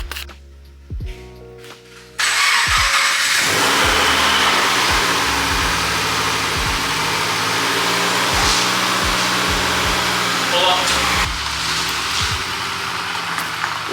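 A freshly rebuilt Scion FR-S starts up and idles for its first drive after a full overhaul, a steady mid-pitched engine drone holding close and fairly loud with a few light clicks before it catches, no talking.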